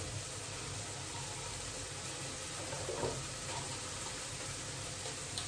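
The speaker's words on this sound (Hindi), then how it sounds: "अब इसमें डालना है हमें थोड़ा सा पानी, उसके बाद डालने हैं ओट्स" Water trickles steadily into a cooking pot for making oats, a faint, continuous wash of running water with light sizzling texture and no talking.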